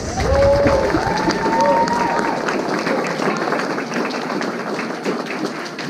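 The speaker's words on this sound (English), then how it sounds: "one last big round of applause" A school audience claps and cheers through an elementary academic awards assembly, a loud, dense round of applause from a crowded room with a voice briefly rising above it near the start.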